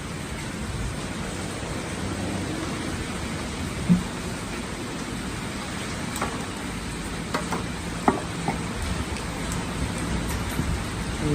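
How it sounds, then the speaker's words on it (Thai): Steady rain falls during a storm, a dense even hiss of drops on surfaces close by, with a few louder drips and taps breaking through. "ฝนก็ตกนะครับ"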